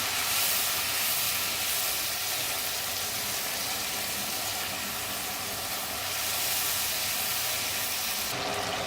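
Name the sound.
spice paste being fried in a pan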